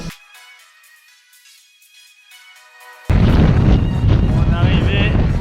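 Strong gusts buffet the microphone on the summit of the Puy de Dôme, faint at first, then bursting into a loud, sustained roar of rushing wind.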